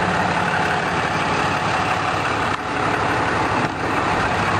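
A Cummins 6.7 diesel pickup truck idles steadily and evenly, a constant broadband engine rumble with no revving, heard close and alone.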